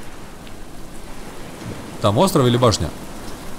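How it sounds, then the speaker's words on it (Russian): Steady rain hisses throughout in the survival video game Stranded Deep, a constant wash of noise under someone speaking briefly. "Нет, это не шторм, это у нас просто дождик."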